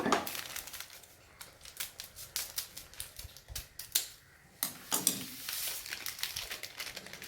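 Packet jelly powder, two packets, poured into a bowl holding sugar and pineapple for an eggless no-oven pudding: a dry rustling, crinkling stream with sharp ticks of the packet, close and fairly quiet, with no talking.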